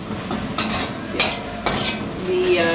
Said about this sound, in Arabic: بصوا انا بحمر البصله شويه كده اهو